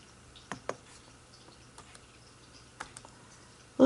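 A handful of sharp clicks from typing on a computer keyboard, spaced irregularly with short pauses between keystrokes, quiet and close in a near-silent room.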